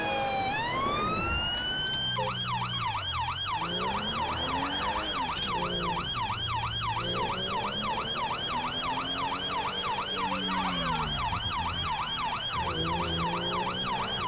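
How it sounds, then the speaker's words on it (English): Police car siren from a UK police patrol in the GTA 5 LSPDFR mod, a loud continuous wail that sweeps up and down steadily and alternates with rapid yelp cycles, with engine rumble beneath and no talk. "Put the sirens on because I'm at the T-junction"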